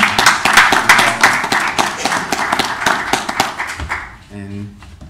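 A round of applause at a board of education meeting, a few seconds of dense, close clapping that fades out, followed by a moment of quieter room sound.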